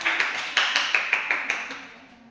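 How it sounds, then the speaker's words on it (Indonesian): A classroom group claps in a quick, fairly even rhythm for a student named Sarah during a mathematics lesson; about eight or nine close, bright claps fade out after two seconds. "Berikan aplaus untuk Sarah."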